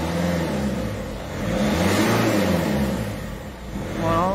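A Peugeot/PSA 1.6 HDi diesel engine, just repaired for a leaking injector seal, revs gently and steadily, its low engine hum swelling and easing in a couple of soft rises close by.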